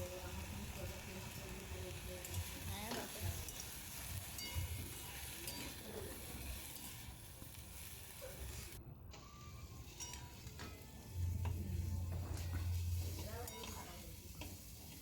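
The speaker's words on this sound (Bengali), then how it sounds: "সজনে ফুলগুলো নাড়াচাড়া করে ভালোভাবে একটু ভেজে নেব। খুব বেশি ভাজবো না, একটু হালকাভাবে ভেজে নেব।" Drumstick flowers are stirred and lightly fried in a pan, producing a quiet, continuous sizzle broken by soft scraping and clinking as the spatula moves them around.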